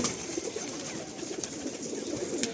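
Many pigeons coo together inside a large loft in West Bengal housing Kalanka pigeons, a dense, continuous murmur of overlapping calls close by with a few sharper wing or perch noises.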